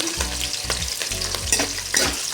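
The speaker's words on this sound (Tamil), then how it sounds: "பச்சை மிளகாய் இந்த தோலெல்லாம் கலர் மாறுற வரைக்கும் நீங்கள் வதக்கணும்." Green chillies and two dried red chillies sautéing in hot oil for lemon rice, a steady close sizzle broken by repeated stirring strokes of a spoon against the pan.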